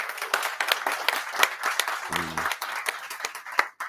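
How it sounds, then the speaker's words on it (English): Audience clapping at a book launch event, a dense, steady patter of many hands that runs throughout at moderate loudness, with a brief low hum partway through. "So another applause for them."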